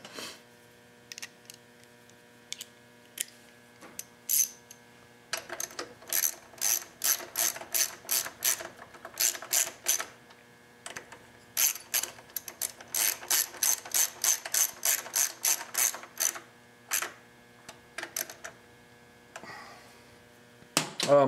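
A ratchet wrench tightens 5/16 bolts on a Tecumseh lawn mower float carburetor, with bursts of rapid clicking strokes repeated many times over a steady background hum.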